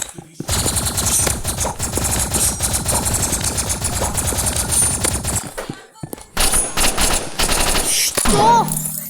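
Rapid automatic energy-pistol fire in a video game, dense and loud bursts that stop briefly near the six-second mark, then resume with clanging effects.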